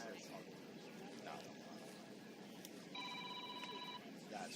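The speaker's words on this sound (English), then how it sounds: "The incessant bloody phone call." A telephone rings through steady background chatter, its electronic tone sounding for about a second near the end of the clip.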